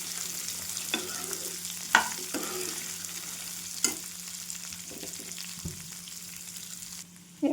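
Chopped onions sauté in a pan with a steady quiet sizzle, broken by occasional scraping stirs and light knocks of the spoon against the pan.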